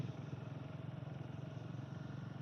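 Motorcycle engine droning steadily on a ride through fog in Lonavala, a constant, fairly faint hum with rushing wind or rain noise and no voices.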